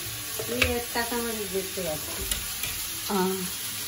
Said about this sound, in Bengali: পাট শাক ভাজা করছে আজকে পেঁয়াজ দিয়ে।